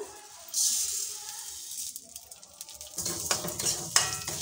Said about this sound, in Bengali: নাড়াচাড়া করে ভালো করে ভেজে নেব ডালগুলো